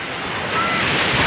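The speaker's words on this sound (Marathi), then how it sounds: "बापरे खूप भयान लाट येते बघा" Big ocean waves surge at Versova beach in Mumbai, a broad, loud, continuous wash of surf that grows stronger midway, mixed with wind buffeting the microphone.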